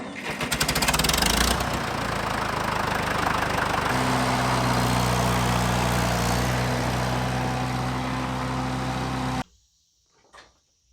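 An old Case tractor engine runs steadily and loudly up close, with a rough idle that settles into a deeper drone before cutting off abruptly, leaving near silence.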